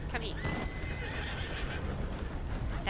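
A horse in Red Dead Redemption neighs with a rising, wavering whinny over a steady bed of hoofbeat clip-clop and ambient noise, close and fairly loud.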